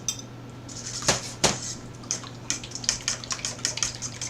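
A fork mixes sauteed oyster mushrooms into cornbread pudding batter in a bowl, giving irregular clinks, taps and wet scrapes at close range, with no talking.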